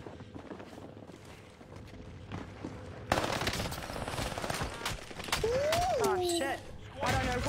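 Video game gunfire: a rapid automatic burst after a quieter stretch, then a sustained loud stream of shots with a rising synthetic tone, heard close up.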